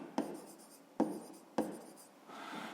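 Pen strokes on paper while working a fifth-grade math exercise: three short, distinct scratching taps about a second apart, followed by a softer scribble at the end, close and quiet with no talk.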